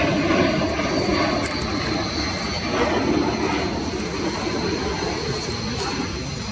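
An RAF Boeing E-7A Wedgetail AW1 airborne early warning aircraft flies past at an air show, a steady broadband jet roar holding loud and even throughout, with no talk over it.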